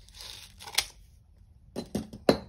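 Quiet tearing and crinkling of gift wrap around a box, a few short rips separated by pauses, close by with no talk.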